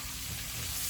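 Shrimp for Sicilian shrimp scampi sautés in a pan with a dense, continuous close-up sizzle and hiss, steady throughout a single second.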